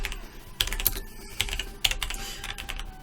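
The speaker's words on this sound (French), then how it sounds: "Je vais taper logo Spalding." Keystrokes on a computer keyboard while entering a search during 3D modelling work: a short burst of quiet, irregular clicks, fairly close and alone.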